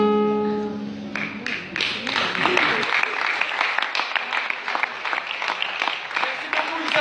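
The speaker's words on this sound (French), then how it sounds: "Tous vos applaudissements." Audience applause at a live show in Barjac, a dense crowd of clapping that swells after a brief lead-in and holds steady and loud to the end.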